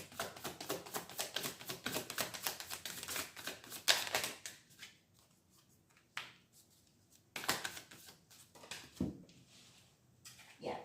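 Tarot cards are shuffled and drawn during a psychic reading, with dense rapid riffling and slapping for about four seconds, then sparser soft card handling and a few louder flicks and slaps, close and quiet with no talk.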